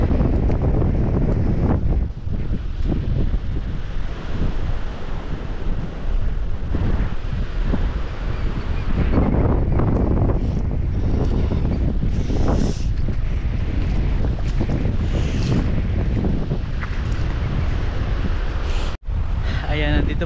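Strong waves and gusting wind on Weymouth Beach, New Zealand, during a fishing trip, a loud continuous roar of surf and microphone wind buffeting, with a voice speaking now and then.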